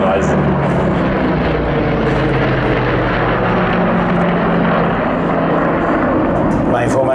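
A formation of T-28B Trojan propeller aircraft flies past at the ILA Berlin air show, producing a loud, continuous droning engine roar that holds steady throughout.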